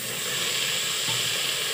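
Water poured into a hot pan of frying onions, chili and spices sets off a loud, steady steam hiss and sizzle, close up with no talk.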